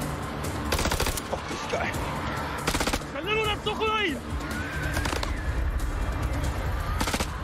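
Rapid bursts of automatic gunfire in the House of Ashes video game, sharp broadband volleys repeating loudly through the scene, mixed with game effects and a short spoken exclamation over the shooting.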